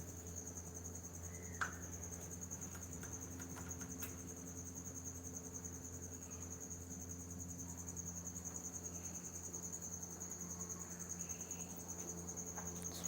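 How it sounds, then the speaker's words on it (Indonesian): Crickets chirping at night, a dense continuous high-pitched trill that is steady and fairly faint, with no voices. "Suara jangkrik terdengar jelas."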